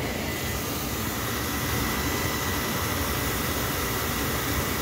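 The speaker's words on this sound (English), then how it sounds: "Blower works fine." A Beckett oil burner blower on a furnace or boiler runs with a steady, loud broadband whoosh and hum, continuous and unchanging throughout, with no voices.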